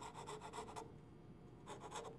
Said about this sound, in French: Adoucir ces stries à l'aide de la lime.